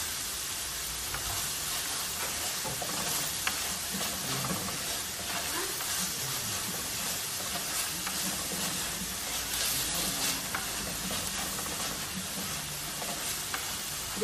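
Salted fish curry ingredients sautéing in a pan, a steady close hiss and sizzle that runs without pause and carries faint scraping stirs.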